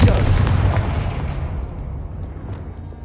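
A booming fiery blast from the Confringo spell in the Hogwarts Legacy video game erupts loudly and close, then rolls off into a long fading rumble, heard alone.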